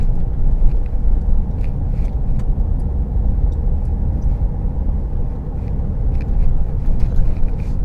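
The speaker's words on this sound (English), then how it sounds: "having to change into a low gear to get up the climb" Car engine labouring in a low gear while climbing a steep hill on the North Downs between Temple Ewell and Lydden, a steady, loud low rumble with road noise that continues throughout without talk.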